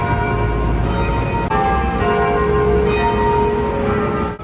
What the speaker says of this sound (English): As we were arriving at the cathedral, the church bells started ringing.